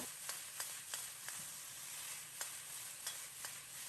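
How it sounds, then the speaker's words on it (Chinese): Blanched vegetables hiss in a hot wok as sauce is drizzled in, with quick regular scrapes and clanks of a ladle tossing them about every third of a second over a steady sizzle. "倒入勺中，边翻炒边淋入调好的料汁"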